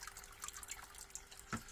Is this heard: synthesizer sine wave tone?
no